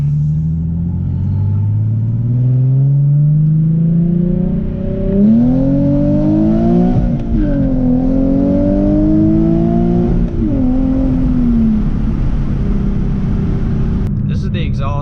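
A Nissan 370Z with a Greddy GPP RS-Race exhaust cruising at about 55 mph in sixth gear, a steady low exhaust rumble heard from inside the car, with someone talking over it throughout.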